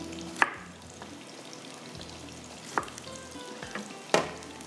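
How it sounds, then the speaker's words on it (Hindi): Chopped onions frying in hot oil for deggi mutton, a steady close sizzle broken by three sharp scraping clacks of a spoon stirring the pan, no talking. "प्याज को ब्राउन करते हैं"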